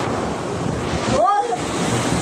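Seawater waves flooding into a coastal fishing village, a constant heavy rush of water and wind buffeting the microphone, with a brief rising whistle-like tone in the middle.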